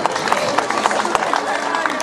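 Applause and clapping from a crowd at a school mushroom festival in Wielichowo, a dense steady patter of many hands with crowd noise, lasting a couple of seconds.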